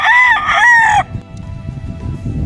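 A gamecock stag on a farm lets out a single loud, close crow lasting about a second, followed by quieter clucking and low farmyard rustling.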